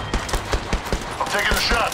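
Apex Legends gunfire rattles in a quick, evenly spaced burst of close shots. The burst then gives way to a brighter, denser wash of in-game noise.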